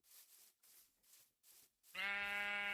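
A Minecraft sheep gives one short, clear bleat near the end, after a few faint, muffled sounds.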